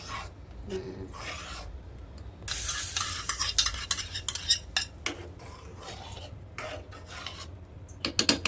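A dal tadka tempering sizzles in a pan, with bursts of bright hissing and repeated scraping stirs of a metal spoon, close by and uneven in loudness.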